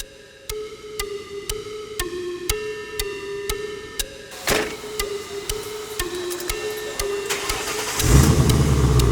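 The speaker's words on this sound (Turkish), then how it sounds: "Araba kullanmayı severim." A car engine cranks and catches with a sharp burst, then settles into a steady running rumble that swells louder near the end, following a stretch of evenly spaced electronic chimes.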